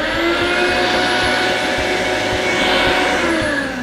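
A big shop vac runs steadily as the air source for vacuum forming, a loud continuous whine with a low motor hum and no talk.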